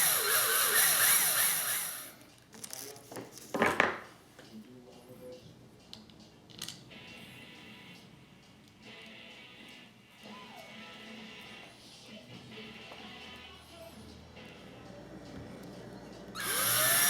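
A handheld power drill bores pickup screw holes freehand into the body of a Warmoth Les Paul-style guitar build, whirring loudly at the start and end around a quieter stretch of handling noise and brief clicks.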